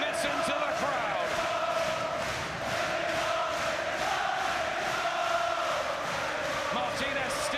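Boxing arena crowd during the final round of Martinez against Burns, sustained chanting and cheering from many voices, a steady wall of sound with brief whoops rising above it.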